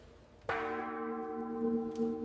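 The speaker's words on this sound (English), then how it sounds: "One bell rings." A single bell strikes at a Japanese tuna auction in a seafood market, a sharp clang followed by a long ringing tone that sustains and slowly decays over a faint murmur of the market hall.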